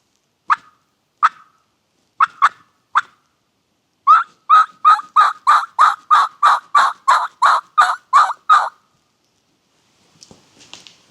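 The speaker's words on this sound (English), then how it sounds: "I'd like to be able to get him to gobble again." A wild turkey gobbles in the woods. A few sharp, isolated calls are followed by a rapid rattling run of about a dozen pulses, then faint scattered calls, all fairly close and clear against quiet surroundings.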